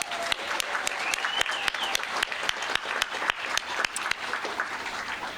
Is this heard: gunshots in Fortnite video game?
no